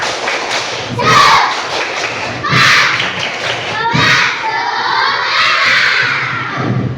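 A group of schoolchildren does a spirit clap in bursts, loud thudding claps mixed with shouted chanting voices and crowd cheering.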